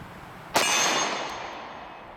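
A single 9mm round from a SIG Sauer P365 pistol strikes a steel target, a sharp close clang that rings on and slowly fades over about a second and a half.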